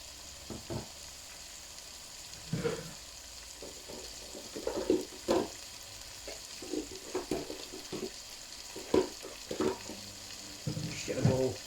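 Lamb pieces frying gently in a curry pot, a soft steady sizzle broken by intermittent scrapes and stirs of a utensil against the pot, close and moderately quiet with no talking.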